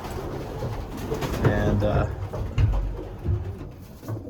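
Domestic pigeons cooing inside a loft section housing about 17 cock birds, a busy, close chorus of overlapping low coos with a few wing and perch noises, while someone talks over them.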